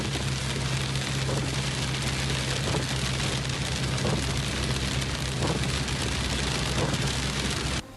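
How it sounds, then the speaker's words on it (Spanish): Heavy rain pours steadily and loudly on a surface, a dense continuous hiss with a low steady hum beneath it, cutting off abruptly at the very end. "la lluvia ya empieza a dejar estragos a nivel nacional"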